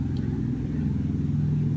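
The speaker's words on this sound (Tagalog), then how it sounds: "So pasensya sa mga maririnig yung mga sasakyan o kung ano man" Vehicles passing outdoors in the Philippines, a steady low engine drone with a rising motor tone in the background.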